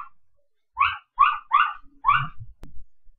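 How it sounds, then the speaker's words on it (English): Several short barks from dogs in another room, four quick yelps in a loose cluster followed by a sharper final one, moderately loud and heard alone without talk. "Perdóname por los perros, están ladrando allá."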